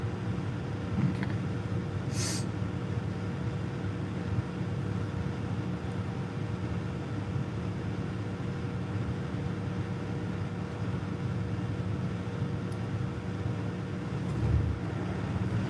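A 1971 Oldsmobile Cutlass on the road home after a carburetor rebuild, its steady low engine drone and road rumble running evenly throughout at moderate level, with no talking.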